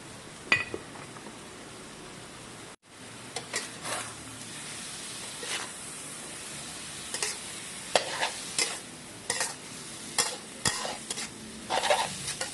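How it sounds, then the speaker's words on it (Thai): Watermelon rind stir-fried with egg, seasoned with fish sauce and oyster sauce, sizzles steadily in a pan while a utensil scrapes and clinks against the metal in irregular bursts, close and moderately loud, with one brief silent gap and no talk. "ผัดให้ส่วนผสมเข้ากันค่ะ"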